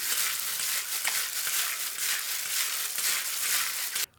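Soy sauce, Shao Xing cooking wine and black pepper are stirred together with chicken for kung pao, giving a continuous wet, crackly mixing sound, close and steady, cutting off abruptly at the end.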